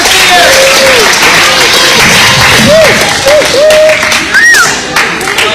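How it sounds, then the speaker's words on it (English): A magic show audience applauds loudly and steadily, with whistles and cheers cutting through the dense clapping throughout. "Give her a big round of applause."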